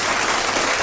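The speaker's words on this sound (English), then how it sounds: "Big applause, big applause." Steady, dense clapping from a small crowd, sustained at an even level throughout the short stretch with no break.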